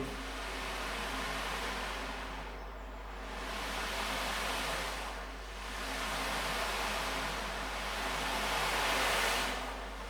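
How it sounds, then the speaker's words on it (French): An ocean drum used in a relaxation session, rolling beads producing slow swelling washes of hiss that rise and fade like waves, three or four surges, steady and alone with no talk. "qui imite le bruit des vagues."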